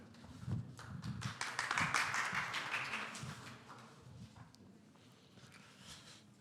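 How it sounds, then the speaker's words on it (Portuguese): Audience applause at an entrepreneurs' fair, a burst of clapping that swells quickly, stays dense for a few seconds, then thins out into scattered claps and room noise. "Peço um aplauso."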